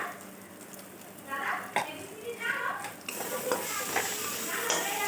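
Ground coriander, chilli powder and Maggi masala get stirred in a hot pan before kochur loti goes in, a rough scraping and sizzling that starts quietly and grows fuller and steadier after the first second; close, with no speech.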